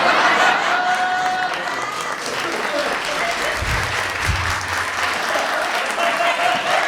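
Loud, steady audience applause during a comedy set about a pastor's son, a full crowd clapping continuously with a few voices and chuckles mixed in.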